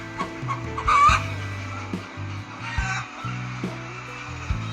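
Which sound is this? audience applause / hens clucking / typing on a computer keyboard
hens clucking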